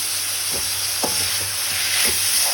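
Chopped bitter gourd sautéing in a pan gives a steady broadband sizzle, with a few soft stirring knocks and scrapes spaced through it, close and moderately loud, with no voices.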